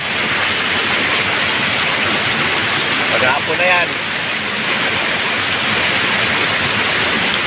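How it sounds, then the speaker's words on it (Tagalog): Heavy rain pouring steadily over a flood-affected neighbourhood in Montalban, Rizal, a loud continuous hiss of water that fills the whole scene while someone speaks briefly partway through. "Lakas ng ulan dito sa amin."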